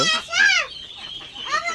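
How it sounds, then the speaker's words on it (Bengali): Chinese geese call close by, with two or three loud, nasal honks in quick succession, the last one trailing off. "সব বড় বড় হাঁস দেখতে পাচ্ছ, এই দেখতে পাচ্ছ, এটা হচ্ছে চীনা হাঁস।"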